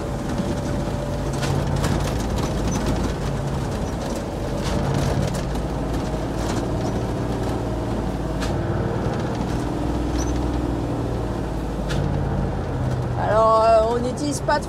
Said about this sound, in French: Frein moteur et ralentissement d'échappement.